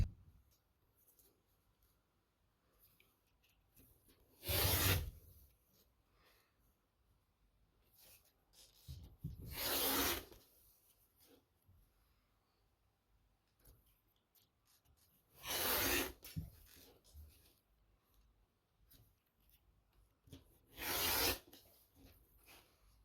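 Scissors or a rotary cutter cut fabric for a free-hand tunic top in four short, quiet bursts of rasping slices spaced several seconds apart, with faint rustling between.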